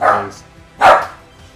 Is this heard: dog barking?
yes